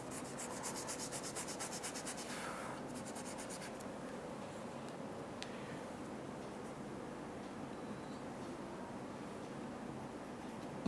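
Soft, continuous rubbing of graphite pencil shading on paper as it is blended smooth during a still-life drapery study, a steady close scratchy hiss with a brief lighter stroking texture early on.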